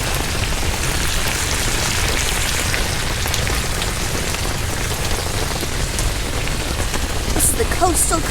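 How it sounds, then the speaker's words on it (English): Rain falls steadily on a hot tent during a winter backpacking storm, a dense, even patter close overhead that holds for the whole stretch, with a few sharper drips near the end. "It's nice listening to the rain."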